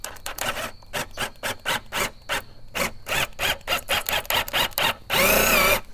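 A drill fitted with a DeWalt screw extractor works a stripped screw in short bursts, giving a close, stuttering series of grinding chatters, then a sustained louder screeching whirr near the end.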